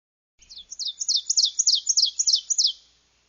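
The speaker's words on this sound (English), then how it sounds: "She said the ovenbird songs went," Ovenbird singing its ringing teacher-teacher song: about nine rapid, evenly spaced two-note chirped phrases that swell in loudness, clear and close with no other sounds.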